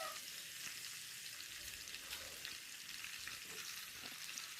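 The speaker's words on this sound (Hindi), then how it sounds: "और मैं वन बाय वन करके इसमें फ्राई कर रही हूँ घी में।" Vegetables fry in ghee in a pan, a soft, even sizzle with faint crackles, quiet and steady throughout.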